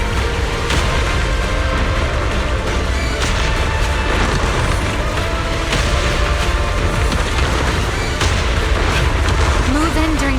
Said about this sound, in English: Move in during the gaps between explosions.